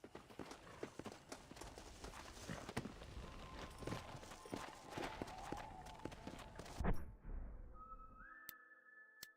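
Horse hooves clop at a steady trotting rhythm in the Red Dead Redemption video game, a soft continuous patter with faint ambient tones, ending abruptly into near silence.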